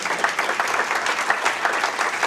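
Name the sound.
audience applause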